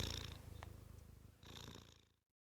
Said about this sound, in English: Oh, lovely cat.